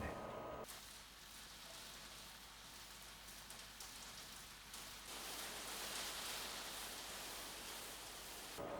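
Rain heard from indoors in a film soundtrack, a soft steady patter of drops on a surface with room echo, faint and continuous after a brief quieter opening.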